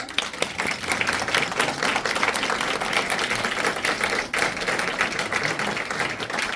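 An audience at a Fullerton city election candidates' forum applauds the candidates with dense, sustained clapping that holds steady throughout and fills the room at moderate loudness.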